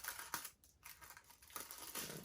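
A piece of shrink wrap film for packaging DIY jewelry is snipped with scissors, giving a few close, crisp cuts and light crinkling, quiet and with no talk.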